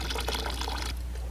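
Water pours steadily into buckets outdoors, a broad continuous splashing rush that runs loud and even, then thins and quiets toward the end with no voices.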